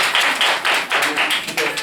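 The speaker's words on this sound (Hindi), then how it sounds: "ताली मार दियो" A group of people clapping their hands together at a gathering, a steady run of quick, close claps repeating rhythmically with a slightly hollow, dense sound throughout.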